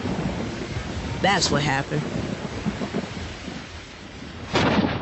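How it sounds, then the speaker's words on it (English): Heavy rain pours and thunder rumbles throughout a sneaker commercial featuring a basketball player, a loud continuous wash with swells, while a voice briefly speaks over it. "Then it starts raining."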